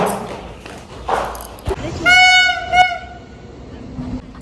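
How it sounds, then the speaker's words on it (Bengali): At a railway level crossing, two trains pass one after another, rumbling nearby, a horn blaring in one long, loud blast while voices carry over the steady clatter. "আর পরপর 2টো ট্রেন গেল"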